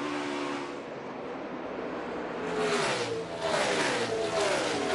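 Race cars roar past at speed in single file and a pack during the opening laps, a loud, dense engine drone that swells and shifts pitch as the field goes by, with no talk.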